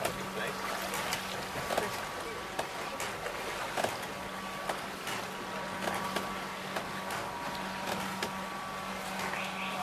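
Paddle boats move across water with rhythmic splashing and knocking, under a steady hum and faint voices nearby.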